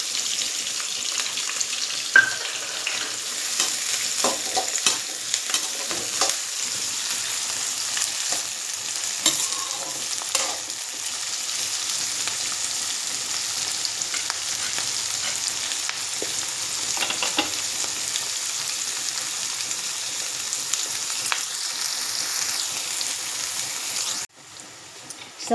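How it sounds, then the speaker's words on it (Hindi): Garlic and green chillies sizzle in hot oil in a pan, with scattered scrapes and clicks of stirring over a constant frying hiss. The sound holds steady and close before stopping abruptly near the end. "अब इसमें डाल दूंगी मैं लहसुन और हरी मिर्च।"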